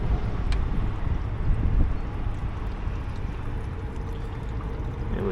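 Liquid drains out of a Volvo truck in a steady, rushing pour, a continuous splashing flow at moderate level with faint background rumble.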